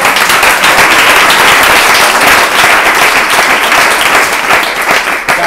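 Loud, sustained applause from the audience at a design conference talk, dense clapping filling the room steadily with no voices.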